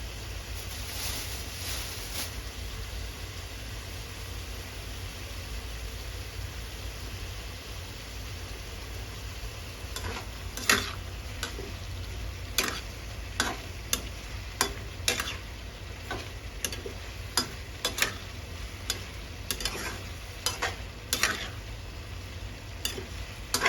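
Japanese cucumber stir-fried with egg in a pan: a constant, moderate sizzle with a stretch of sharp spatula scrapes and clicks against the pan in an irregular rhythm, no voices.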